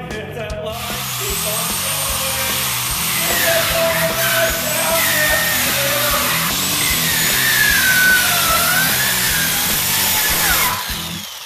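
A Dual Saw tears through a football helmet with a loud, sustained power-tool whine and grinding rasp, steady for about ten seconds before cutting off near the end.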